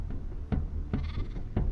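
Sheep in TerraFirmaCraft bleat three times in short, evenly spaced calls over a low, steady background, each cry brief and fairly close.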